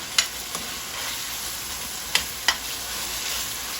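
Saltfish frying in a pan with a continuous close hiss, broken by a few sharp spoon-against-pan taps as it is stirred; no voices.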